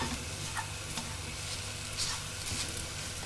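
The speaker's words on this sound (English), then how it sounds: "pop it in the pan with the kale. There we go. So we're putting the noodles in as well. And then we're just going to mix all of those ingredients together" Roasted cauliflower, kale and noodles stirred together in a pan, a soft steady sizzle with light scraping and occasional clinks, close and moderately quiet, with no voices.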